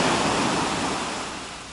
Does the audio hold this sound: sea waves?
yes